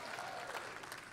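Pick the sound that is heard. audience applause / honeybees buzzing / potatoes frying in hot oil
audience applause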